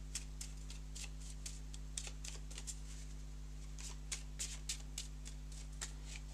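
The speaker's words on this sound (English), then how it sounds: "We'll reshuffle it quickly." Playing cards riffled and reshuffled during a live tabletop play test of a board game, a rapid series of soft crisp flutters in close succession against a steady low electrical hum, with no talking.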